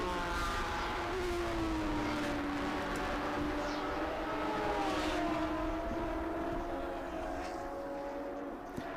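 Race cars run on the track at Road Atlanta during a SpeedTour event, their engines droning with rising and falling pitch at a distance in a steady, continuous roar.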